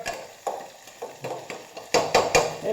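Pavta beans roasting in a pan of oil with cumin and mustard seeds: a spatula knocks and scrapes the pan in steady taps about every half second, growing louder near the end, with no talk.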